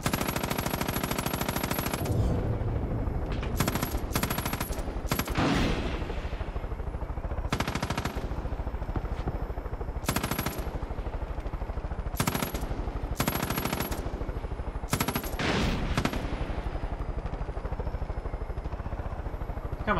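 Machine gun fire in the Far Cry 5 shooter game: loud, close automatic bursts rattle in repeated volleys separated by short gaps, with a steady high whine underneath and no speech.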